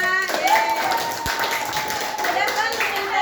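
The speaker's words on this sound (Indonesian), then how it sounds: "tepuk tangan dong buat Salma" Classmates in a grade 6 primary school classroom clap for a student, a scattered, uneven patter of small hands lasting a few seconds, with children's voices and chatter mixed in over it.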